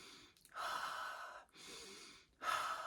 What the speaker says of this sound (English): you're going to be breathing in through the nose and out through the mouth